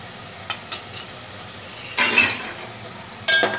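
Moong dal fry curry is stirred and mixed in a pan, with light clinks of a spoon against metal, soft scraping bursts and a faint sizzle in between, all close and without talk.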